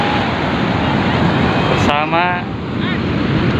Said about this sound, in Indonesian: Sekarang saya lagi di Pantai Karapia